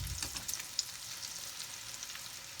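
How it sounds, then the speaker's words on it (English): Eggs fry in hot oil beside breaded pork schnitzel, a soft steady sizzle with faint crackles and pops, low and continuous with no voices. "you might as well fry the eggs as well into the oil"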